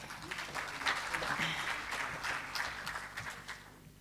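Audience applause at a botanists' conference, a steady wash of many hands clapping that fills the room for several seconds with even loudness.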